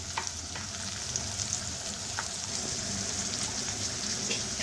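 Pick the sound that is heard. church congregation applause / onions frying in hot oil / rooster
onions frying in hot oil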